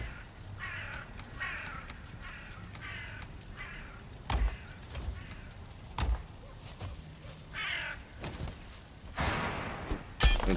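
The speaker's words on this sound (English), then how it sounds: "you guys hear the crows, blackbirds or whatever, constantly flying by and cawing at us" Crows caw repeatedly in the Valheim video game, several sharp calls scattered across the clip over a low ambient wilderness background, no one talking.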